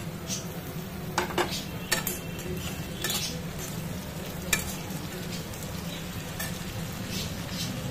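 Potatoes and tomatoes fry in a pan for a chana dal dish with potato and soybean, giving a steady close sizzle broken by clinks and scrapes of stirring.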